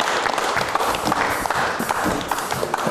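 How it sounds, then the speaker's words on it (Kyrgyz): An audience claps for a couple on a dating show, a dense burst of hand claps filling the room, steady and fairly close for a few seconds. "катыраак кол чаап коелу."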